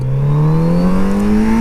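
A 2018 Kawasaki Z900RS motorcycle pulls away hard, its engine note rising steadily in pitch through one strong gear, loud and close with no speech.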